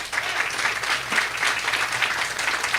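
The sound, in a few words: crowd applause at a grand opening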